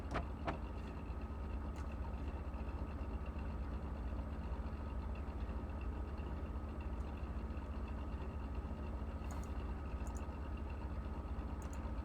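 A car engine idles steadily in BeamNG, a low, constant rumble that holds evenly throughout with no revving and no talk.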